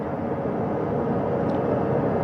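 Rotor and engine roar of a recovery helicopter hoisting an astronaut aboard over the Pacific Ocean after the Artemis II Orion splashdown, a loud, steady broadband drone that holds unbroken throughout.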